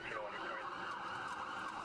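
A siren wails steadily in the distance, its pitch sweeping up and down over a low rumble of traffic.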